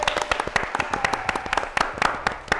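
Applause from a small group, a brisk burst of sharp individual hand claps, close and uneven, lasting a few seconds.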